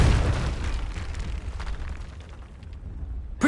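A Confringo blast spell explodes in the video game Hogwarts Legacy as a deep, booming detonation with a rumbling low tail that fades over a few seconds, followed by a short sharp burst at the very end.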